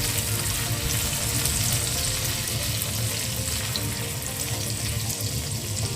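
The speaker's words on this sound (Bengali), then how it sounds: "আদা কুচি 1 চামচের মতো দিয়ে এটাকে একটু ভেজে নিচ্ছি" Chopped garlic and ginger frying in hot oil in a pan, a dense, steady sizzle that stays loud and even throughout with no voices.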